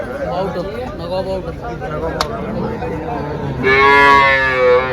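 Cows at a busy cattle market in Chalisgaon, one dairy cow a 21-litre milker, with a loud moo rising near the end over steady crowd chatter and nearby voices.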